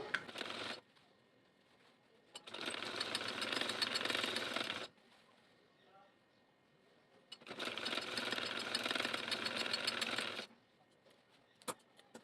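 A sewing machine stitches a baby dress in two rapid, rattling bursts of a few seconds each, separated by quiet pauses with faint handling sounds, close and clear.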